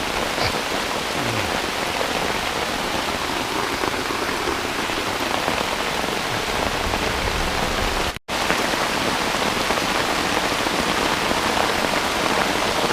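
Heavy rain pours in a jungle at a forest camp, a dense, loud, continuous hiss of drops on foliage and surfaces, broken only by a momentary cut.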